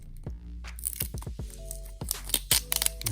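Tape being peeled and torn off packaging that holds a bundle of baseball cards, giving several sharp rips and crinkling pulls close up, with no talking.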